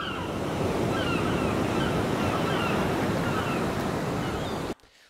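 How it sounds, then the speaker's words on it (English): Ocean surf rolls and crashes steadily in a broad, loud wash with some wind, cutting off abruptly near the end. "this is just the basic idea of how to do a text reveal with an ocean wave"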